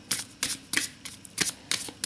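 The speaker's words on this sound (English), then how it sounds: "Let's have a little shuffle, see how that goes." Idiosyncradeck tarot cards with slippery stock being shuffled by hand, about seven quick crisp rustling bursts at a steady rhythm, close and alone with no talk.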